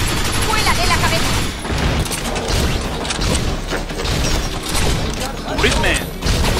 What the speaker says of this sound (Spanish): Dan, concentra tus disparos.